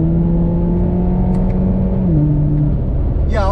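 Inside a Chevy Camaro with a 4-cylinder engine, the steady engine drone steps up in pitch during a manual downshift, then a short revving whine rises near the end.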